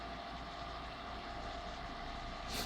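Steady, continuous motor hum from a homemade chicken, quail and turkey egg incubator, its motor turning the egg trays; a close, even drone with a brief brighter rise near the end.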